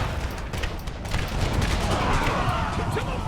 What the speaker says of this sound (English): Even the general's getting a little shot off with his pistol.